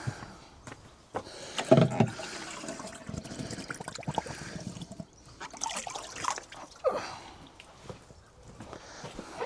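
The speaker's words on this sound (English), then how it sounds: "I get some more water out the bath here." Water scooped out of an old bath on an allotment: sloshing, pouring and trickling splashes come in uneven bursts, fairly quiet and close, with light handling noises between them.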